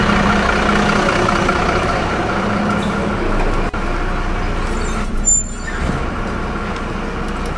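A bus rumbles loudly and close past on a narrow street in Italy, its engine drone filling the air before a sharp air-brake hiss; the noise then eases as it moves on.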